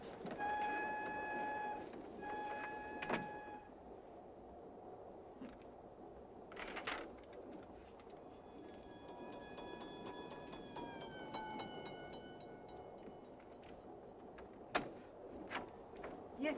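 A train rolling on rails in an old radio drama, bound out of Paris, with a steady rumbling clatter, whistle-like tones, and a few sharp knocks over sixteen seconds, with no talk.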